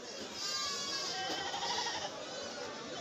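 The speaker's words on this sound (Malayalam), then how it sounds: "ഇവിടെ ഒരുപാട് ആടുകളെ വാങ്ങി മാറ്റി കെട്ടിയിരിക്കുകയാണ്" Goats bleat at an early-morning goat market in Kerala, several thin wavering calls over a busy crowd murmur with people talking nearby.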